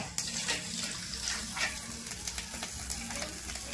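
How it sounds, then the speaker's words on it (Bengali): Saag, a leafy green, frying in a pan with a steady, crackling sizzle and occasional sharper pops from the greens, heard up close with no talking. "শাকটা বাজবো"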